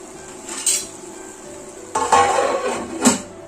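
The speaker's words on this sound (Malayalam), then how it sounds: "ഇനി നമുക്ക് അടപ്പൊക്കെ ഒന്ന് തുറന്നിട്ട് നല്ലൊരു ഇളക്കി കൊണ്ട് കൊടുക്കാം" A lid is knocked and lifted from a pan of softening tomatoes for pepper chicken, followed by a burst of stirring and scraping over a low sizzle, with a final clink.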